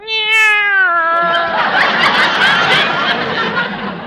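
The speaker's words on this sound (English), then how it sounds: "The way this cat eats is a caution." A cat lets out a long, wavering meow that slides downward, loud and close, followed by laughter and chatter from a studio audience in a vintage radio comedy.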